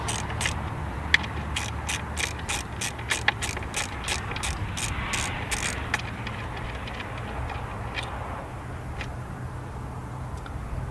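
A hand ratchet with an 8mm socket loosens bolts on a 2005 Ford Escape 3.0 V6 engine, a quick run of clicking strokes, then slower scattered clicks, close and clear.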